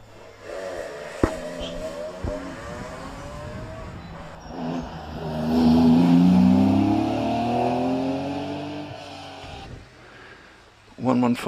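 A 2.5 litre Porsche Boxster race car on a hillclimb start line revs and pulls away, its engine note rising to a loud, sustained roar mid-clip before fading, with voices talking over the engine.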